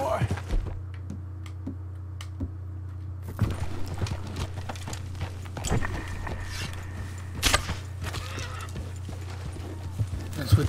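A horse in Red Dead Redemption 2 clip-clops along at a steady pace, its hooves faint under a constant low hum, with someone talking intermittently and occasional jangling thunks.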